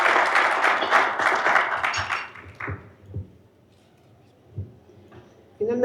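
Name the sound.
audience applause for a seminar speaker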